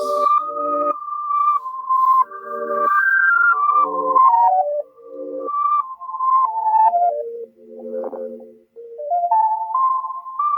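Reversed intro sample in an FL Studio beat: a swelling, backward-sounding synth melody with stepping tones that rise and fall, loud and continuous, briefly dipping and returning.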